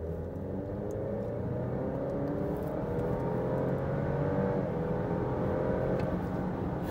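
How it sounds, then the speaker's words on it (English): A 2018 Alfa Romeo Stelvio accelerating from about 20 mph, heard from inside: a steady engine drone rising in pitch with a gear shift partway, over constant road rumble, with no talking. "now we'll do a quick little acceleration test from about 20"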